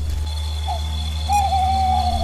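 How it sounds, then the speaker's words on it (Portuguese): A faint owl hoot sounds twice over a steady low hum, the second call longer and more drawn out. "é só uma coruja."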